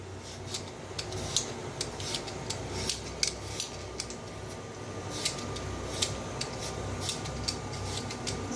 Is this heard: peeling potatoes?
yes